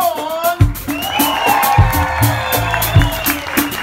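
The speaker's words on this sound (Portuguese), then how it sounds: "os nossos aplausos para Wilco" Applause and cheers for a trombonist at a carnival ball, with sustained clapping and crowd noise over a steady thumping band beat and bass, lively and fairly loud.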